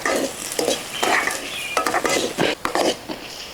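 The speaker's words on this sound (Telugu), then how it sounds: "ఉల్లిగడ్డ ముక్కల్ని లైట్ బ్రౌన్ కలర్ వచ్చేదాకా ఫ్రై చేసుకోవాలి." Onion pieces and green chillies fry in oil while a spoon stirs them, giving loud close sizzling broken by repeated scraping and clinking strokes against the pan.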